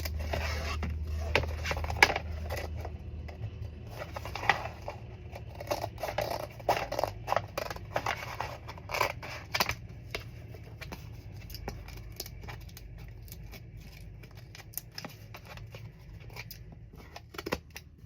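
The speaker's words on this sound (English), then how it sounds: "So I just cut close to the book board." Scissors cut close to the fabric-covered book board of an old, sturdy school book being turned into a journal cover, with quiet, irregular snips and scraping rustles at close range, heard alone.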